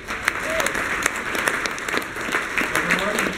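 An awards banquet crowd breaks into sustained applause, a dense, even wash of clapping with scattered louder claps and faint voices mixed in.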